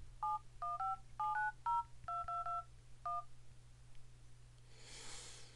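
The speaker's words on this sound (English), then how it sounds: "I'm going to make a phone call here to one of my buddies that is synced with my device." Phone dialing tones, a quick run of about a dozen clear dual-tone beeps in irregular rhythm over a low hum, followed by a soft burst of hiss.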